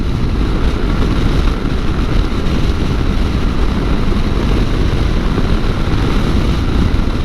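Steady, loud wind rumble and buffeting from a Yamaha Tenere 700 motorcycle cruising at about 70 in a crosswind. It is a continuous roar with no talking.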